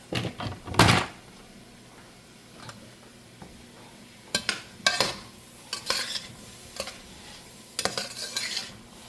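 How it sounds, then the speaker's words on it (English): Sausage browning with onions in a frying pan, with a soft background sizzle under scattered scraping stirs and clinks of a utensil against the pan, close by and without speech. "Now I'm gonna go ahead and add my sausage in to brown too, and let my onions catch that sausage flavor."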